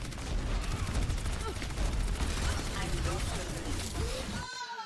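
Gunfire in the video game Overwatch, played as Orisa, comes as dense rapid bursts of weapon shots over game effects, with a player talking throughout.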